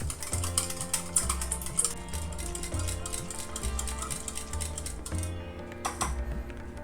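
A kitchen mixer runs steadily at speed for a couple of minutes, blending ingredients for Gujarati khaman dhokla batter, giving a continuous close whirring with a fast rattling, clicking texture and no talk.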